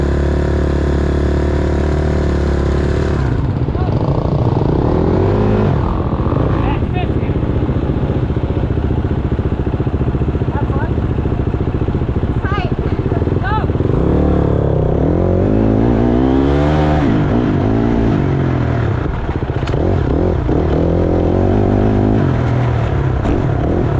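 Enduro dirt bike engine racing through mud at a Lake Butler mudfest race, running a little off, loud and continuous with rising and falling revs and clattering throughout.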